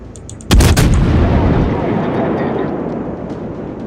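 A heavy naval gun salvo booms from a New Orleans cruiser in World of Warships, one loud blast followed by a long rumbling roar that slowly fades.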